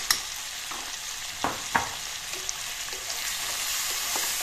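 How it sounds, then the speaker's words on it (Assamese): Soft, steady sizzling of fish frying in a pan with salt, turmeric and chilli powder, with a few quick clinks and scrapes of stirring. "এইখিনি প্ৰথমতে মই ভাজি লম 3 মিনিটমান সময় এনেদৰে"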